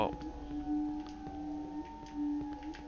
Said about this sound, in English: Why am I hearing Morse code?